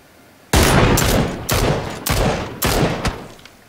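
Sniper fire in a video game battle: several loud, sharp gunshot blasts in quick succession, each with a lingering tail, following a moment of quiet.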